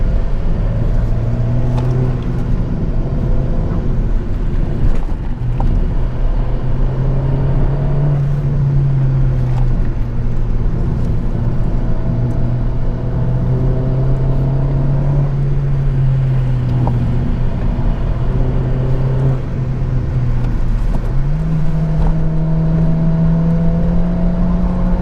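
Honda Civic Type R with a swapped rear sway bar driving over a rough stretch of road, a loud steady engine drone with rising and falling pitch and continuous road rumble.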